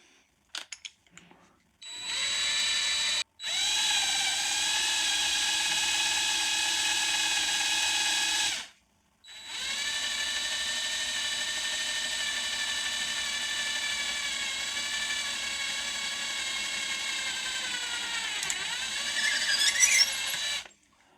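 Power drill with a 5 mm bit boring into a PLA 3D-printed part, a high whining motor running in long steady bursts with brief pauses between, close and loud, pitch shifting slightly as the bit bites.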